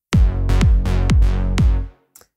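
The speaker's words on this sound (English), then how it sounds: "Now the first is a dotted 8th bass line," Synth bass playing a dotted eighth-note line, five or six punchy plucked notes with downward pitch sweeps in a syncopated rhythm, loud and alone, ending in a brief silence with a faint tick.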